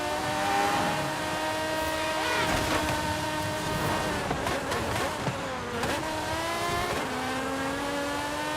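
A car in Forza Horizon 5 drives at night, its engine revving and droning with rising and falling pitch, loud and continuous, with a voice talking faintly over it.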